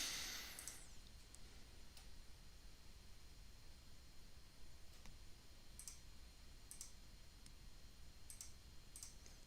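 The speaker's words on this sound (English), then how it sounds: "just clicking around a few things here" A computer mouse clicks faintly in a quiet room during a live stock day-trading session, sparse single and double clicks scattered over a steady low hiss.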